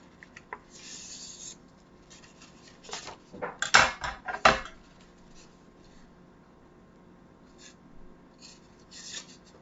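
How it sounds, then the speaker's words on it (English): Scissors snipping through folded paper down the middle, a few scattered cuts then a quick burst of crisp snips in the middle, close and alone without talk. "you're going to take your scissors and you're going to cut down the middle"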